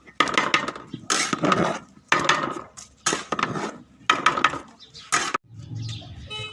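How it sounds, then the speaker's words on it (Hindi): A spoon stirs sweet zarda rice in a pot, making loud, repeated scraping and clattering strokes in about six distinct bursts with short pauses between them, close and clear with no voices. "अब इनको अच्छी तरह मिक्स करेंगे।"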